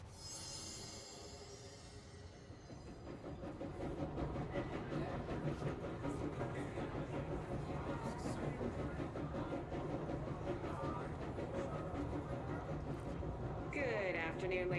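A train rolling along in the video game Control's AWE expansion: a continuous rumble of wheels with rhythmic clatter, rising in loudness after the first few seconds, with a voice speaking over it.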